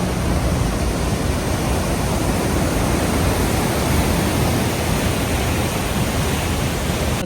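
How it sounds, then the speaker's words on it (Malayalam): Steady, loud rush of river water released from Kallarkutty dam, flowing close beside a road; a dense, unbroken broadband roar runs throughout with no voices. "ഇവിടെ നമ്മുടെ റോഡുമായിട്ട് അടുത്തോടെയാണ് വെള്ളം പോകുന്നത്."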